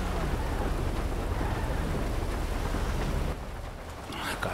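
Heavy rain pours during a thunderstorm in the video game GTA V, a dense steady hiss with low rumbling that drops away near the end.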